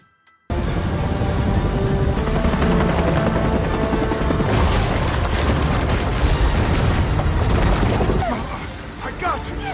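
A helicopter in an earthquake disaster film scene: a dense, loud roar of chopping rotor noise with heavy rumbling booms and chaotic crashes, continuous throughout after a brief quiet start.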